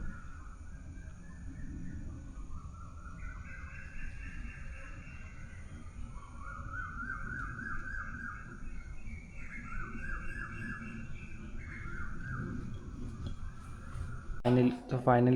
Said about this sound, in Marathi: मस्त पक्ष्यांचा आवाज.